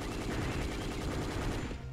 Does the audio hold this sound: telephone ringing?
no